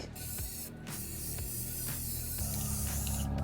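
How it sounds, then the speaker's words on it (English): A spray paint can hisses in several bursts, with short pauses between them, close by and fairly loud, and no one talks. "now it's time to add the spray paint for the beak"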